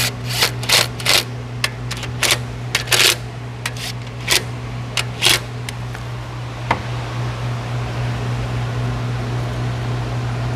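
A mechanic tightens bolts down on an engine with its valve cover off. A burst of sharp ratchet clicks comes in irregular clusters over a steady low hum, then stops and leaves only the hum.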